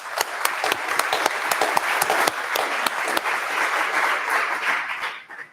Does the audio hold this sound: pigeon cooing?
no